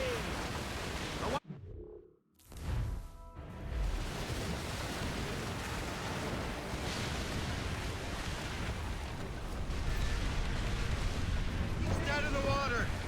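Ship cannon fire in Assassin's Creed Rogue, heavy booming blasts over a dense, roaring wash of sea and battle noise, with a sudden drop to near silence after the first shot and shouted voices around it.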